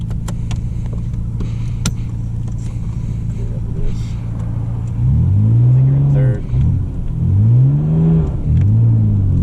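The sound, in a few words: Nissan R32 GTR car driving, engine revving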